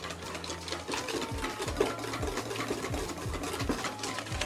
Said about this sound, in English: So just going to whisk the cream until we get some nice soft peaks